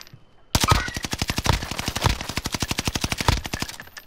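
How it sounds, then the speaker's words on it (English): Sustained automatic gunfire in Call of Duty: Warzone, a loud, rapid, evenly spaced burst of shots lasting several seconds, close and alone with no talking over it. "We both shot at the same time."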